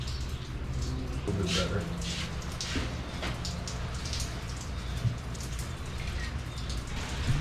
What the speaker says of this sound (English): So it's raining and whatnot